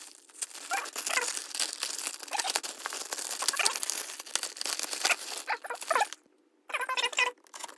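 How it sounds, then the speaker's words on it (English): Plastic packaging for an AceBeam X65 Mini flashlight is cut and torn open, giving steady close crinkling, crackling and snipping for about six seconds, then a brief quiet and a short final burst of rustling. "let's cut her open."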